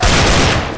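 A Desert Eagle pistol fires in Counter-Strike GO on Dust II, a single loud, booming gunshot that hits hard at once and then decays into a short echoing tail.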